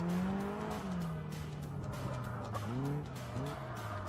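A Caterham race car drifts at Brands Hatch, its tyres squealing in long, wavering wails over the loud, close drone of the engine that rises and falls as the slide continues.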